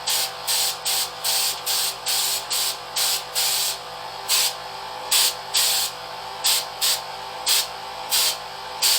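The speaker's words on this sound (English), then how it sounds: "just turn the knob on the airbrush itself, and it'll control the paint flow" A double action airbrush sprays airbrush-ready paint in short, repeated hissing bursts, each under a second, in an even rhythm over a faint steady compressor hum, close and fairly loud.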